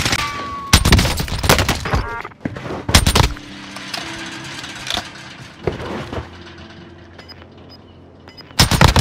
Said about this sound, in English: I'm getting my AK loaded up. Full AK.